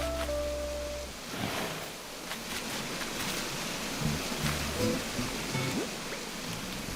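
A video-game waterfall rushes in a steady, broadband wash of falling water, with faint game tones briefly heard underneath.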